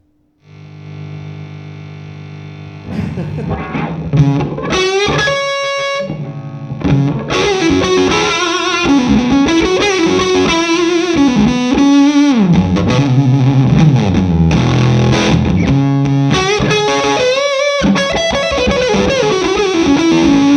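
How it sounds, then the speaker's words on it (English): Heavily fuzzed electric guitar through a Vemuram fuzz pedal and Morgan MVP23 amp plays thick, saturated chords and bending lead lines, loud and continuous after a brief buzzing intro. "Let me plug in the Vemuram and you'll hear what I mean by full-on fuzz."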